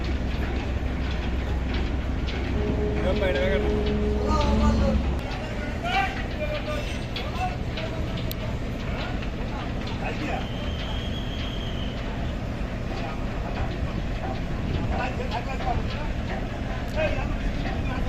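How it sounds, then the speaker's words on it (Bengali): A Bhola passenger launch on a special Eid trip pulls away from the ghat bound for Ilisha, its engine a steady low droning rumble with a horn-like tone early on, while someone talks over it throughout. "বি ভোলা লঞ্চটি ঈদ স্পেশাল ট্রিপ নিয়ে কালীগঞ্জ ইলিশের উদ্দেশ্যে ছেড়ে যাচ্ছে"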